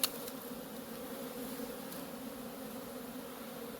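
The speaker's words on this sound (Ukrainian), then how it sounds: "Ось такий інтенсивний йде обліт у бджіл." A dense, steady buzz of many honeybees in intense flight around hives at an apiary holding Buckfast colonies, close and continuous, with one small click at the start and no talking.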